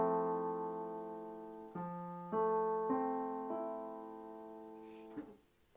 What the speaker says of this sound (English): So, the first one called major seventh chord,